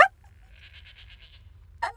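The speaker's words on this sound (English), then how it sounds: "They brought a goat back to life." A resurrected goat in the Skyrim video game lets out a short, wavering bleat, pulsing for under a second over a low game background hum, followed by a brief louder burst of sound.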